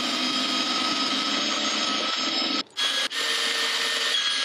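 An improvised mobile lathe spins a vintage DAP kart part, giving a steady bright mechanical whir with a high tonal whine that drops out twice in quick succession near the end.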